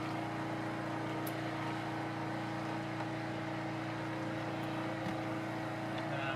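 A sump pump runs steadily while draining laundry rainwater, giving a constant motor hum with a fixed whine throughout, loud and unbroken with no talk.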